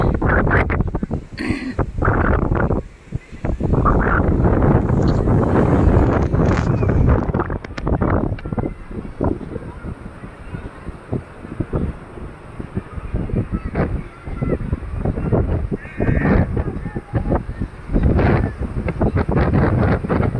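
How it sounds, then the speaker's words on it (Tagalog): Heavy wind at a beach buffets the microphone in loud, continuous gusts, with rumbling roar throughout and a brief lull partway through. "Malakas ang hangin, sobrang lakas ng hangin talaga."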